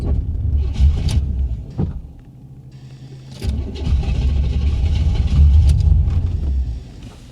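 A 1985 Chevy Corvette C4 parts car pulled from a Florida swamp cranks, stumbles, then catches and runs, its loud, rough engine rumble rising and falling close by with no talking.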